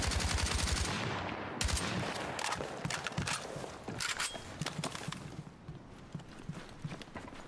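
RPK light machine gun firing in Battlefield 6, loud close bursts and rapid shots amid in-game battle noise, with an engine-like drone at the start fading into scattered cracks and impacts.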